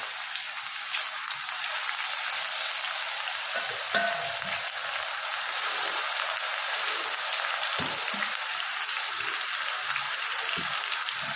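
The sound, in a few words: onion and green garlic frying in a pan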